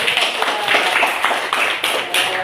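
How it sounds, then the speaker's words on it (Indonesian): A classroom of students claps for a pupil in an Islamic religious education lesson, several bursts of close, uneven clapping in quick succession. "Bagus, tepuk tangan."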